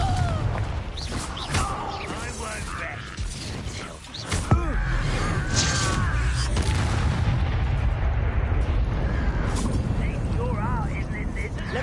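Explosive Confringo spell blasts in Hogwarts Legacy combat on hard difficulty, booming amid a dense, continuous mix of spell effects and battle noise, with a voice speaking over it.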